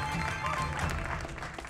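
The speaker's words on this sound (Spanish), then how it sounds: "Un fuerte aplauso porque contigo empezaremos" On a Spanish-language quiz show, the studio audience applauds contestant Iván with steady, dense clapping mixed with a murmur of crowd voices, sustained through the moment.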